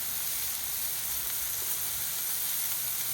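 A bacon pinwheel smash burger with onions sizzling on a hot griddle, a steady, even hiss of frying fat that holds at close range with no talk.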